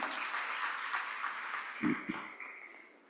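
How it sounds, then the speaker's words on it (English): Audience applause for a professor at a university day celebration, a soft diffuse patter of clapping that fades out toward the end, with a couple of low thumps midway. "giving a big round of applause to Professor Ashokanji"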